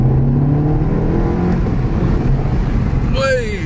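A VW Golf Mk7 GTI accelerates hard along a road, a loud continuous engine roar with rising tone, close by, ending with a brief whistling whine.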